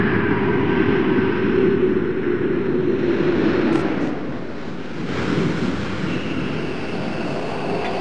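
Space Shuttle Endeavour on final approach for landing makes a loud, continuous roar and rumble of airflow that holds steady and then dips slightly partway through, with no voices heard.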